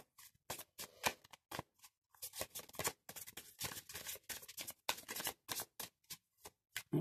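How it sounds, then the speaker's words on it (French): Oracle cards are shuffled by hand in close, crisp bursts of riffling and slapping, repeated in an uneven rhythm with short pauses between, with no voice over them. "Voilà, je brasse et je vais étaler."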